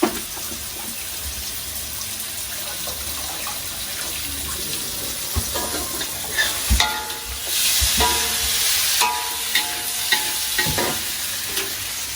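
Food sizzling and frying in a pan in a home kitchen, a steady close hiss with occasional stirring scrapes and clatter that swell louder toward the end.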